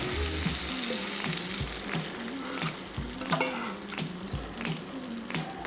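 A sweet potato and egg mixture frying in a buttered non-stick pan for a skillet pie, with a constant close sizzle, scattered stirring scrapes and light utensil clinks under faint background music.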